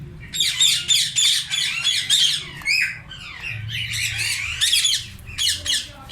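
A colony of Indian ringneck parrots in summer squawks loudly and nearby, with harsh calls arriving in dense overlapping bursts and brief pauses throughout.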